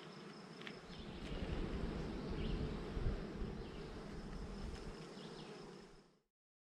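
Honey bees buzz steadily at a beehive where new comb is being built, a dense, continuous drone that holds close and even throughout before cutting off abruptly at the end.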